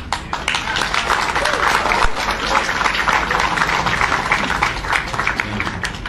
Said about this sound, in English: You may well clap